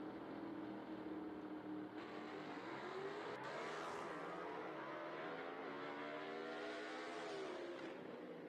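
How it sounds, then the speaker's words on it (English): A gasser-class drag car makes a full-throttle run at Shadyside Dragway in a Southeast Gassers Association race, heard from a distance as a faint engine roar rising through the gears and fading away. "There's another 134 mile an hour rip right there down the racetrack."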